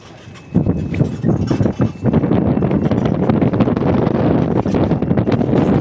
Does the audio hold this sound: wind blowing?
yes